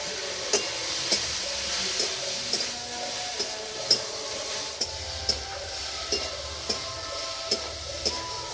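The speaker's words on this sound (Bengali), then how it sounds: "হালকা করে একটু ভেজে নিয়েছি।" Spices with turmeric and Kashmiri chilli powder lightly frying in a pan for a jujube pickle, a steady soft sizzle with regular light stirring clinks throughout.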